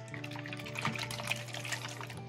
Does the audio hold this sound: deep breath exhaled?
no